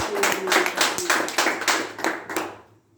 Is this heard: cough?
no